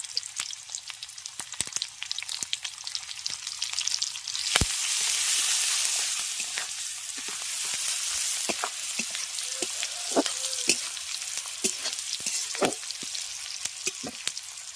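Raw onion and turmeric frying in hardened fish oil, a loud close sizzle with sharp spattering pops and stirring scrapes that swells mid-clip and continues steadily.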